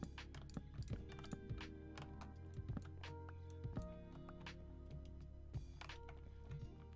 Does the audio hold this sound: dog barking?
no